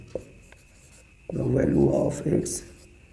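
Chalk or marker scratches across a board during a maths lecture on linear equations, a brief stroke early on and then a steadier run of writing, heard close alongside a talking voice.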